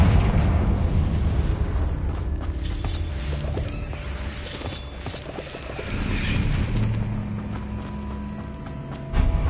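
A Confringo spell explosion in a Hogwarts game sets off a dense, roaring burst, followed by a sustained rumbling, crackling wash with mechanical clicks, loud and continuous throughout.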